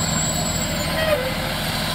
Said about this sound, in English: It's normally not a good thing to see fire trucks at the airport, but today, it's an ounce of prevention.